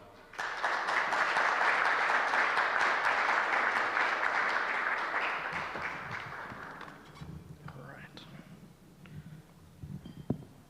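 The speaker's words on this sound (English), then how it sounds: "So please give a big round of applause" A launch event audience gives a big round of applause for a manager, loud and dense clapping that swells quickly, holds for several seconds, then thins out and fades into scattered claps and room noise.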